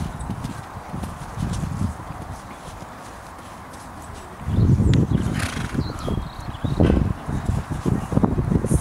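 A horse canters in a riding lesson, its hoofbeats thudding in a rhythmic clip-clop that grows louder and nearer halfway through, with rustling around it and no talking.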